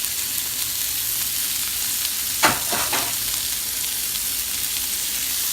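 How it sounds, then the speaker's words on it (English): Brussels sprouts dropped into a hot pan with olive oil, giving a constant close sizzle with a brief louder crackling burst as they hit the oil, then a steady fry with no talk. "Make sure the pan is heated, and we're going to add our Brussels sprouts."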